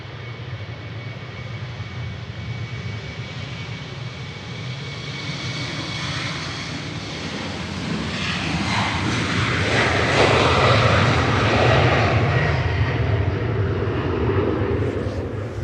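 A TAP Express plane departs Manchester Airport for Lisbon, its engine roar building from a steady rumble to a loud, broad peak as it passes, then slowly fading.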